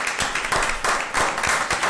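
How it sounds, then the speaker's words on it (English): At a Jackson Public School District board meeting, the room applauds honored parents with steady, dense clapping from many hands, close and continuous, with faint pulses of louder claps and no talk over it. "please stand so that we can also give you a round of applause"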